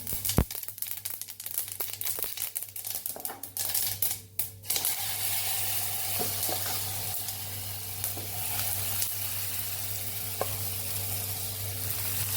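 Millet flour pancakes topped with white sesame seeds fry on a pan. Scraping and clattering come first, then a loud, continuous close sizzle holds steady to the end with no voices.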